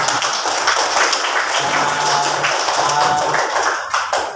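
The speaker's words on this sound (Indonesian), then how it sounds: "kita berikan tepuk tangan untuk kita semua" A school class claps together in a dense, steady burst of applause that lasts a few seconds before tapering off.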